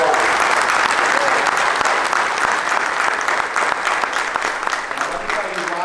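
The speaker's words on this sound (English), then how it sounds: "Let's give him a round of applause." A keynote audience in an armory hall breaks into loud, sustained applause, a thick continuous wash of clapping from a large crowd that stays strong for the whole stretch, with faint crowd murmur mixed in.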